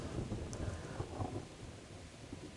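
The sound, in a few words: thunderstorm with heavy rain from a video game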